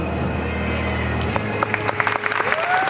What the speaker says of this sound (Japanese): ビーボイスに大きな拍手。